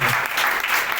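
A church congregation claps their hands during worship, a dense, continuous, loud patter of many hands close by.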